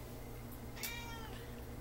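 A single drawn-out cat meow, fairly close and clear, rising then falling over a steady low background hum.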